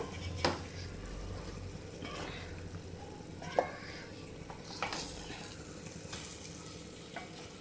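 Fish pieces frying in a pan as they are flipped one by one with a flat turner, a steady sizzle broken by a few sharp clicks and scrapes of the utensil against the pan, close by with no talking.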